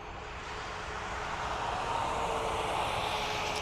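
An Aer Lingus airliner departs Dublin Airport bound for London, its engines a distant, steady, gradually swelling roar with no voices.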